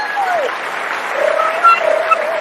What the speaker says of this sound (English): give us another round of applause